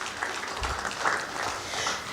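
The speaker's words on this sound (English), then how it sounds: "Please give the LIT team a round of applause as well for putting together such a great event." A crowd at an organised event applauds the organising LIT team, giving dense, uneven clapping that swells and dips over a couple of seconds, with some murmured voices underneath.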